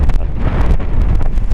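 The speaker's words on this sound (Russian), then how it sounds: "Ветер разгоняется до бешеной силы, все ломает, все срывает." Strong November wind roars and buffets the microphone in loud, continuous gusts, with no voices.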